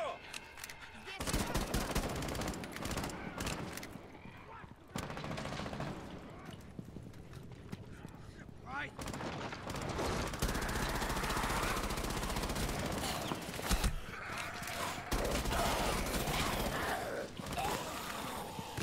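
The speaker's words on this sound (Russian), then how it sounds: "Сейчас получается проще с бедра стрелять." Hip-fired weapons in Rainbow Six Siege's zombie Outbreak mode, dense, sustained bursts of rapid gunfire crackling almost without pause, loud and cluttered with game effects.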